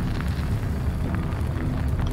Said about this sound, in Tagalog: Mamamatay lang ako sa pagsabog ng train.